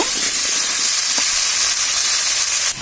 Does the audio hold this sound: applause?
no